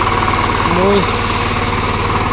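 A steady tractor engine drones throughout at constant loudness, dragging a field leveller, a low idling rumble with a brief rising whine near the start; a voice talks over it.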